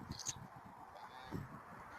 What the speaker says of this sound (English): She's being a silly goose.